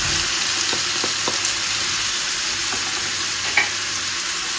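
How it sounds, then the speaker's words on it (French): Onions frying in a pan for chicken stroganoff, a constant hissing sizzle with a few faint clicks of utensils against the pan, close and even, no talking. "à présent on va rajouter les oignons"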